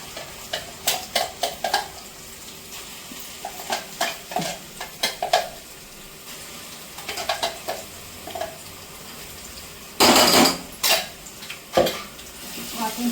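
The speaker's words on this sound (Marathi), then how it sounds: "वाटण छान तेलात परतून घेते मस्त." Ground spice paste being stirred and fried in oil with browned onion for a spicy black crab curry, with repeated scraping and clinking of a spoon against the pan, brief sizzling bursts and a loud clatter partway through.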